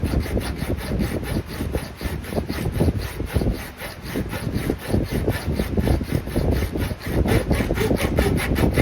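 A hand file flattens a steel blank for a fixed-blade knife in quick, evenly paced rasping strokes. The scraping repeats close and loud throughout, with no talking.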